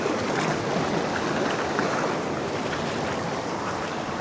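Sea waves and an incoming tide near Paviland Cave in Wales wash in a steady, dense roar, with wind buffeting the microphone throughout.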